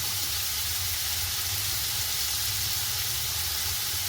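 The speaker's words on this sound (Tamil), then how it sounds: "அப்படியே ஒரு நிமிஷம் வதங்க விட்டுட்டு" Ingredients sauté in a hot pan, giving a loud, steady sizzle and hiss that runs without a break, with no voices.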